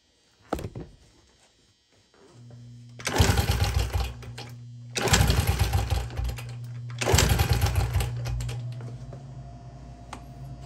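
Honda XR70 engine cranked over during a compression test, three loud bursts of rapid chugging cranking separated by short pauses, with a steady low hum continuing between and after them.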